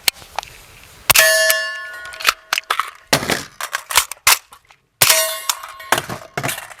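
A pistol's slide racked by hand, with the safety on, during a dry-fire drill outdoors in the cold: sharp metallic clacks and clicks in a few quick bursts, close and loud, with no talk.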